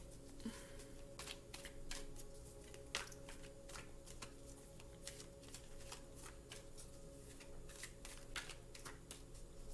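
A deck of Halloween oracle cards is shuffled close up in a rapid series of crisp riffling snaps and soft slides, with a quiet steady hum underneath.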